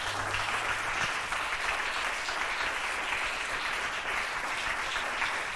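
A church congregation applauds in praise, a steady wash of clapping from many hands that holds evenly for several seconds at a moderate distance, with no voices rising above it.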